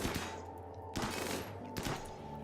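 Gunfire from a Rimworld colony battle, with dense bursts of rapid shots clustering into three loud volleys that quickly follow one another, with no voices in between.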